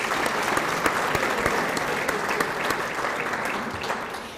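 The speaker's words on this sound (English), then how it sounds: "So a big round of applause to Tom." An audience at the 2018 Rosie Awards, a Wadsworth Chamber of Commerce event, applauds photographer Tom with dense, steady clapping that stays loud and even throughout.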